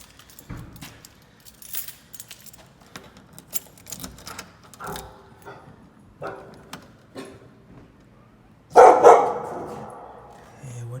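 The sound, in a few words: dog barking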